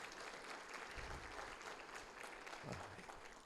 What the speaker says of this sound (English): Let's give Dan Miller a round of applause for putting this event on.